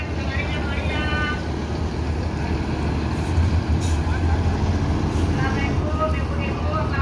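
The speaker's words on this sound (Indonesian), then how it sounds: "bus Palala yang kedua masuk terminal" A second bus pulls into a busy bus terminal, its engine rumbling close by with brief hissing air-brake bursts, while people talk over the steady noise.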